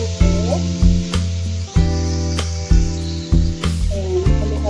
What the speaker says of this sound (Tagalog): Tapos, kamatis. Lutuin yung kamatis.